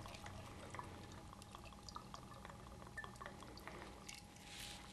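Gin is poured steadily into a glass for a Gibson cocktail, making a soft, continuous trickle that runs for several seconds at low volume.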